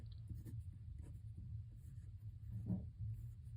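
Pencil drawing an ox cart on paper, with soft, faint scratching strokes in short bursts and pauses, close and quiet, with no talking.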